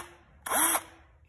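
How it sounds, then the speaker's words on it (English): Black & Decker Maxxis series brushed cordless drill in a garage, triggered once for a short whirring burst that spins up and winds down within about a third of a second, loud and close against quiet surroundings. "my Black & Decker Maxxis series drill"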